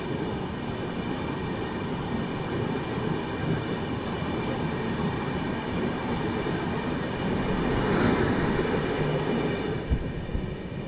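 A Duronto Express train overtakes the LTT–Raxaul Karmabhoomi Express while skipping Chalisgaon Junction, giving a steady, loud rolling rumble with rail clatter that swells slightly near the end, heard alone without voices.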